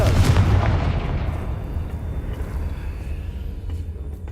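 A Confringo fire spell in the video game Hogwarts Legacy sets off a loud, booming blast up close that rumbles and slowly fades away over several seconds.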